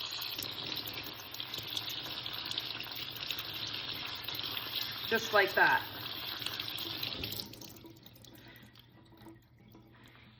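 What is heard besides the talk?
tap water running, rinsing a crab in the sink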